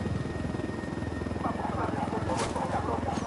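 A helicopter's rotor thumps in a rapid, steady beat close by in the video game Ghost Recon, with a voice speaking briefly over the engine drone.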